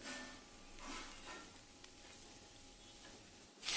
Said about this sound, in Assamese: আৰু এইফালে মই ব্ৰেড সেকি আছোঁ